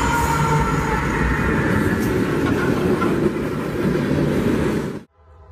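A northbound freight manifest train on the Sunbury line, hauled by brand new locomotives, rumbles past close by in a steady, loud roar of wheels and rail noise that cuts off abruptly near the end.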